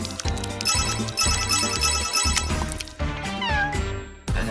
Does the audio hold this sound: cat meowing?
yes